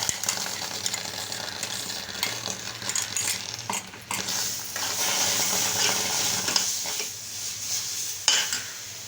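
A spoon stirs finely chopped mango into roasted semolina in a pan while making mango shira, with repeated scraping and clinking against the pan over a faint sizzle and no talking.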